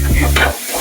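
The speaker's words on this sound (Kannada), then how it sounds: "ಒಗ್ಗರಣೆ ಆಗ್ತಿದೆ" Tempering spices sizzle loudly in hot oil in a home kitchen, a brief close-up crackling hiss with a stirring scrape through it.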